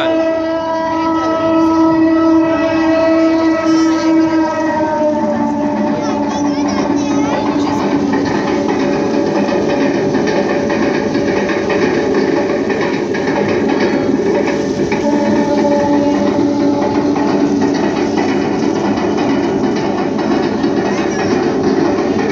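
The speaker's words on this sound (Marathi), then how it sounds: "यानंतर आपण पाहणार आहोत स्वित्झर्लंडमध्ये धावणारी व्हाईट कलरची डबल डेकर ट्रेन." A model of a white Swiss double-decker train runs steadily and loudly for the whole stretch, its rolling rumble joined by sustained tonal whines that sound like a horn or whistle.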